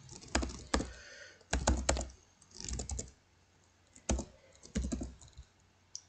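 Typing on a computer keyboard while entering HTML code, heard as several separate bursts of quick close clicks with short pauses between them and no talking.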